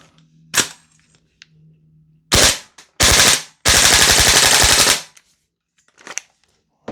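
A Noveske Ghetto Blaster gas blowback airsoft rifle fires loud, close bursts of rapid snapping shots, a short string, a brief volley, then a longer full-auto burst, with quiet handling clicks between.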